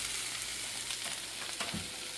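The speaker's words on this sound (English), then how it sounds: "So while it was frying, we added a little bit of the juices here, just to get it a little bit more flavor." Green bell pepper and onion fry in a pan with a constant close sizzle and crackle, a faint scrape or stir partway through, and no voices.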